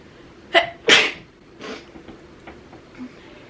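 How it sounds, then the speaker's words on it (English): A person sneezes up close, a short intake followed by one sharp, loud burst, then quieter rustling and small noises. "I have to sneeze."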